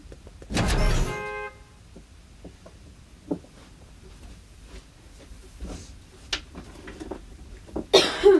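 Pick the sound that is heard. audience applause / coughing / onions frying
coughing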